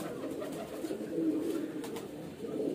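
Soft, low cooing of a highflyer pigeon chick from a cross-bred pair continues steadily throughout, a gentle murmuring coo close by with no talking.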